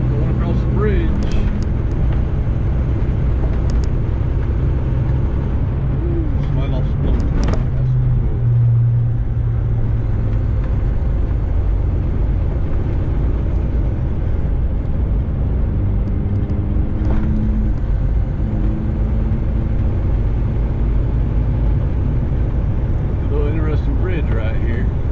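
A truck drives slowly across a bridge over the Hudson River, with a steady low engine and road rumble throughout and a few clunks and rattles, while someone talks over it.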